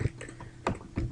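A few quiet taps on a computer keyboard while entering text into an Excel spreadsheet, brief separate clicks close by in a calm room.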